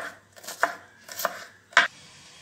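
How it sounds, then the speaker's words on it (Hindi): Three sharp knife strikes on a cutting board as a medium onion is chopped finely, spaced about half a second apart, close and alone. "एक मीडियम साइज का प्याज लेंगे और इसे भी हम बारीक कट कर लेंगे।"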